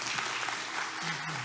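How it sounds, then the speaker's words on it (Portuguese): Applause from a church Sunday Bible school group, a steady wash of clapping hands carrying through the whole moment, with a faint voice tone surfacing near the end. "Salve de palmas."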